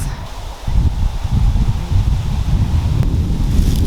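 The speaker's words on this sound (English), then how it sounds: "Wait for the wind to stop." Wind gusts across an open wildflower field outdoors, a loud, rumbling buffet on the microphone with rustling foliage, steady and close for the whole stretch.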